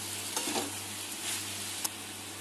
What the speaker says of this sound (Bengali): 1 চামচ আদা বাটা, আর 1 চামচ রাঁধুনি বাটা দিয়ে এটাকে নেড়ে দিচ্ছি